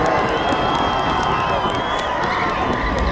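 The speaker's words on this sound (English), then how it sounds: "Please give them a round of applause." A large crowd at a high school cheer state championship cheers and claps loudly and continuously, a dense roar of shouts and applause that fills the whole moment.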